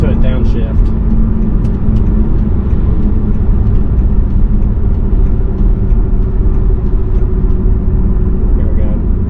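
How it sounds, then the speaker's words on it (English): A 2018 BMW M550i xDrive engine drones loud and steady from the cabin while the car downshifts with rev-matching, its low hum dominating throughout as a person talks over it. "You hear that rev match as it's downshifting."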